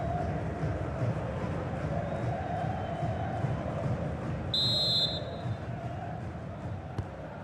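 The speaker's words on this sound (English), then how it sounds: "the referee's whistle indicates the beginning of this match." A referee's whistle in the EA Sports FC 26 football game, Inter Miami against Al Nassr, gives a short, clear shrill blast to start the match, rising over the steady roar of a stadium crowd.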